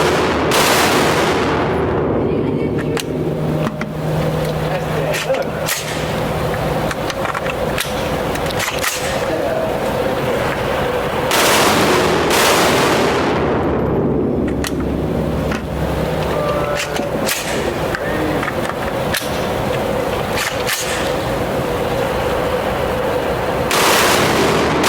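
Rifle shots fired with a mil-spec trigger at an outdoor range, sharp loud cracks spaced several seconds apart with ringing echo, over steady wind and background noise.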